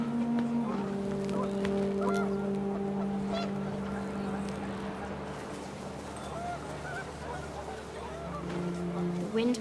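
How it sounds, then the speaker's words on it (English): Panicked geese honk in the game What Remains of Edith Finch, a cluster of nasal calls over a steady low drone and rising wind, the honking fading mid-way before a final louder burst near the end. "The wind picked up and panicked geese appeared and quickly went."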